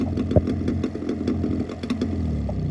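A Jawa motorcycle engine runs at a steady idle-like putter, with rhythmic mid-pitched firing pulses and some mechanical clatter, close by and without talk.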